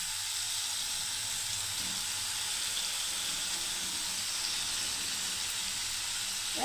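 Brinjals slide into hot oil with a fried masala paste, giving a steady, even sizzle and hiss that holds throughout with no talk over it.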